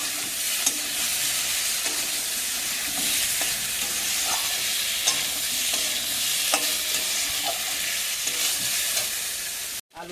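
Potatoes sautéing and being stirred in a pan give off a steady, close, loud sizzle and frying hiss, broken by occasional scrapes and clinks of a spoon, with no voices.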